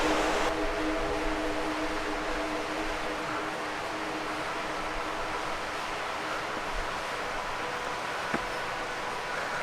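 Waterfall beside a steep Himalayan mountain trail at Sissu, a steady broadband rushing hiss of falling water heard from a distance, continuous and even throughout with no talking.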